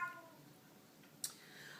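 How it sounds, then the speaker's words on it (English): A house cat gives a short, faint meow for attention right at the start, followed by near silence with a small click. "Sorry, my cat is now wanting our attention."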